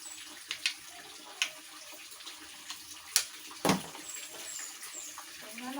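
Water splashes and pours in intermittent bursts while Coco is being bathed, with scattered sharp splashes and drips over a low background hum and no talking.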